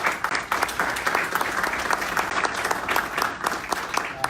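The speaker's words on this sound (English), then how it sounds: "give a big round of applause for our council" Steady applause from a crowd at a city council event, continuous clapping throughout without pause, fairly close.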